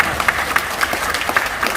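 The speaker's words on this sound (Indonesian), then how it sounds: "Tepuk tangan buat Pak Amari ya" A small seated audience at a business presentation gives Pak Amari a short round of applause, steady mid-level clapping with a few sharper claps standing out.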